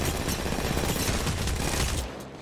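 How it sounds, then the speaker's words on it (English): Long-range gunfire in the mobile game Apex Legends Mobile: a dense, continuous burst of rapid shots filling about two seconds, loud and steady before cutting off abruptly near the end. "Yo, Afro, let me shoot this guy long range."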